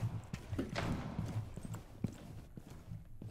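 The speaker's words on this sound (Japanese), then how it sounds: "もう一個足音すんな。" Footsteps in the tactical shooter Rainbow Six Siege: a series of soft, irregular thuds and scuffs, fairly close, crossing a low background hum with no talking.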